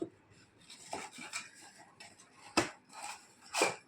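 Newly bought ceramic plates clink and rattle as they are picked up and set against each other, with a few sharp close knocks spread over a few seconds.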